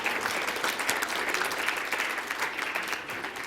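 A crowd at the AAU Sullivan Award ceremony applauds a dog brought on stage, the clapping dense, steady and sustained throughout, close and full with no talk over it.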